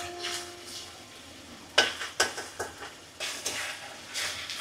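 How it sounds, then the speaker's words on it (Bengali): Spice paste sizzles softly in hot oil while a spoon scrapes and knocks against the pan in a few sharp clinks, then stirring resumes. "এখন মশলাটা ভালো করে তেলে কষাতে হবে যাতে কাঁচা গন্ধটা না থাকে।"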